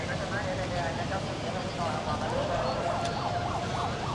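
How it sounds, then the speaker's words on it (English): Distant fake sirens wail in a rising and falling pattern beneath steady street noise in Da Nang, Vietnam. "I hear some sirens."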